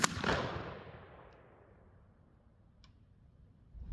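A Winchester Super X .410 shotgun with a full choke fires 000 buckshot outdoors: one sharp, loud report at the start that decays into a long fading echo, followed by faint distant ticks.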